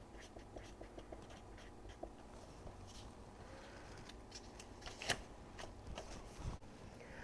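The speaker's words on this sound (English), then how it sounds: "I'm actually gonna write a note." A pen scratching out a short handwritten note in a kitchen, quiet scattered strokes and taps at close range, with one sharper tap near the end.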